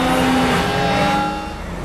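Race car from the 2013 film Sharknado, a loud engine roar with a high tonal whine that holds steady and then drops in pitch and level as it passes or eases off.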